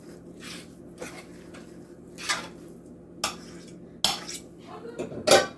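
A spoon scrapes and taps against a dish while spreading mashed potatoes for a shepherd's pie, giving a series of separate clinks and soft scrapes close by, with no voices.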